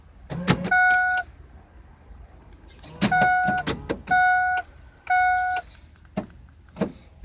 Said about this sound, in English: That's me just unlocking the car.